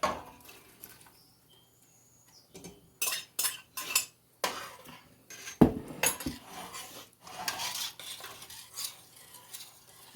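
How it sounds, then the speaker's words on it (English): Hominy tossed into a pot for pork posole with red chile, a series of metallic clatters and knocks from the pot and utensils, rising to a louder burst midway, with no speech. "So first thing we're going to do is go ahead and toss in the hominy, or the posole."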